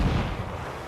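A heavy, rumbling cannon boom from a ship's broadside in the pirate game Assassin's Creed IV Black Flag, loud and low, rolling out across the whole short moment with no voices.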